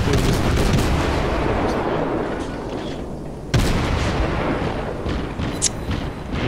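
Naval gunfire in World of Warships, a dense roaring battle soundscape with a sharp heavy cannon boom partway through and a smaller crack near the end, loud and sustained.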